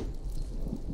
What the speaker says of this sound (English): It's just a storm. I don't think it's a bad one.